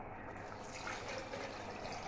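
Water splashes and trickles steadily from a full bucket in a home kitchen while mutton and potato curry is being cooked, a continuous soft wash of pouring liquid with no talking.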